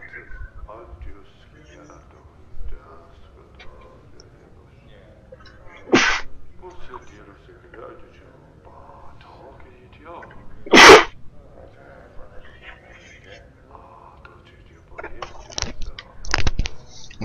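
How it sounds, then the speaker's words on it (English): A sudden sneeze bursts out around six seconds in, with a louder, sharper second sneeze near eleven seconds and a few quicker catches toward the end, all over quiet speech in the background. "I had a sneezing fit overtake me."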